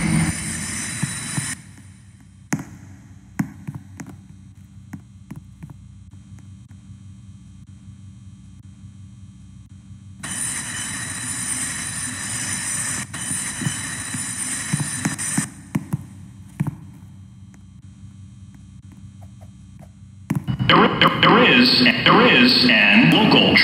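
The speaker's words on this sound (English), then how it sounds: "There is a local train approaching the station." A subway train in the game Transit City 3 rumbles into a station with a low steady roar, broken by bursts of hiss and screeching brakes, growing louder toward the end.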